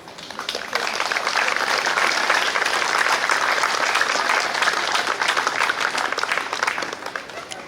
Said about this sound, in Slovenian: Z aplavzom pospremimo odhod praporjev.